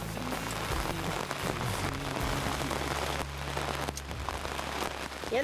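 Rain patters steadily on a surface during a walleye fishing trip in the La Vérendrye wildlife reserve, a dense close hiss mixed with low droning tones from nearby gear.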